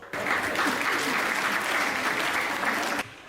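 Sustained audience applause at a Hindi comedy poetry show, a dense wash of clapping that starts abruptly, holds steady for about three seconds, then cuts off.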